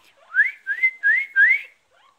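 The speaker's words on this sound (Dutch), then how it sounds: "Ah, Poppy, moet je dan zo hard fluiten?" Four clear rising whistles in a row from a bird, loud and close, each a bright upward-sliding note, then a faint short note after.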